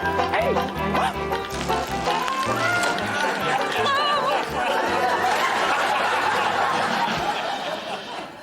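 A dog barks and yips amid a busy, loud mix of music and voices, the barking partly buried in the dense background.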